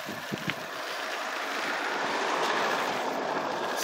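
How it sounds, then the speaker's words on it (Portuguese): An intense wind in the Boa Vista neighbourhood batters the microphone, making a continuous loud roar that stays steady throughout with a faint knock near the start. "Me desculpem se sair um pouco do ruído do vento aí no vídeo."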